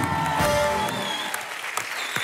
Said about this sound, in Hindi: जोरदार तालियां मोना के लिए।